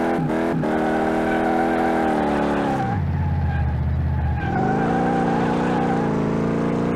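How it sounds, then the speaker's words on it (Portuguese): A car in Car Mechanic Simulator 2018 skids hard with a loud, sustained tire squeal over a droning engine that briefly drops in pitch partway through, then rises again. "Ele tá derrapando demais, demais, demais da conta"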